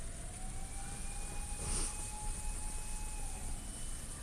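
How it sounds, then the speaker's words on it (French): A police or ambulance siren in Japan wails faintly and steadily in the distance over constant street background noise. "Je sais pas si c'est la sirène de police ou la sirène des ambulanciers"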